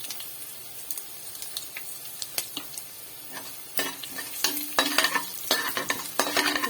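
Vadagam, dried black nightshade berries and asafoetida sizzle in hot oil for a tempering, with steady frying crackle and several sharp spoon scrapes and stirring clatters against the pan, growing busier toward the end.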